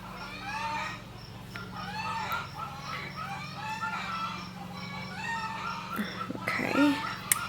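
Chickens cluck and a rooster crows repeatedly, steady overlapping calls at moderate distance with a low hum underneath and a brief louder squawk near the end.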